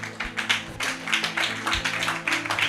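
Rhythmic hand clapping from a congregation at a church service, steady repeated claps with a low musical drone underneath, fairly close and lively.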